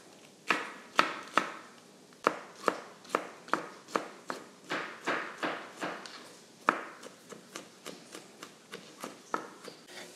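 A knife chops a jalapeno on a cutting board in a steady run of about twenty crisp, close taps, evenly paced with a brief pause midway.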